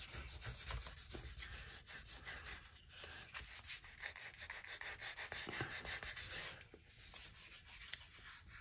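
Paper is burnished down by hand during mixed media crafting, making close, brisk scratchy rubbing strokes in an uneven rhythm that continue throughout.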